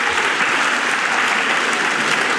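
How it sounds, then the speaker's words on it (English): Steady, dense applause from an audience at a graduation speech, loud and continuous throughout with no voices standing out. "Please give a round of applause for all our teachers,"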